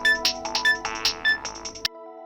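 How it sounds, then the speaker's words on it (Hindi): A phone rings on a loop of electronic tones for about two seconds, steady and close, with a short pulse pattern that cuts off abruptly before a faint hum remains. "वेद का फोन है"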